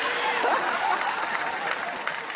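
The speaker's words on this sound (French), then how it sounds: "On les applaudit, mesdames, messieurs, ils ont été extraordinaires." Audience applause for the participants of a stage hypnosis show, steady, dense clapping from a crowd filling the whole stretch with a faint voice over it.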